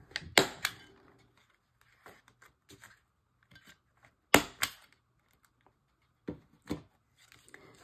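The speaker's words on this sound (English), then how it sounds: "So I'm going to round the corners of this flap." A corner rounder punch cuts the corners of a paper flap, giving sharp, close clacks and crunches in small irregular groups separated by quiet gaps.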